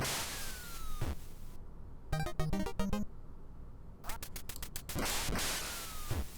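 Electronic ducks from the NES light-gun game Duck Hunt give bright, buzzy chiptune quacks in quick runs of repeated calls, set among swooshing sounds and other game effects.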